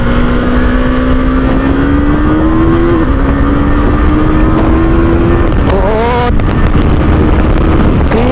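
2021 KTM Duke 390 BS6 motorcycle pulling hard on a road, its engine note rising steadily through the gears with a brief dip at each shift, loud and close, mixed with strong wind rush.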